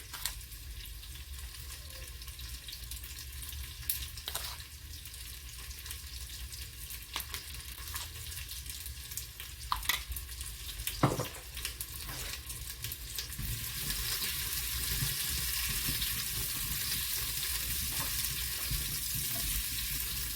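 Beef seasoned with ground cumin sizzles steadily in a pan for a Mexican vegetable beef soup, a continuous close frying hiss with occasional stirring scrapes, growing slightly louder and brighter toward the end.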